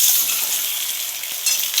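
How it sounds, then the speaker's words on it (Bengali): Eggs sizzle and spit steadily in a hot kadai (wok) as they are stirred, a close, continuous bright frying hiss with soft scraping of the spatula, no voices. "তো আমাদের কড়াইয়ে ডিম দেওয়া হয়ে গিয়েছে। এবার ভালোভাবে নেড়ে নিচ্ছি।"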